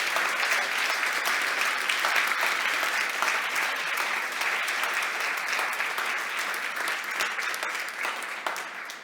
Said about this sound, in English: please give them a warm hand of applause.